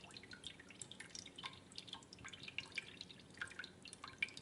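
Whey drains from feta cheese curds in a quiet, continuous patter of small drips and trickles, faint and close, with no voices.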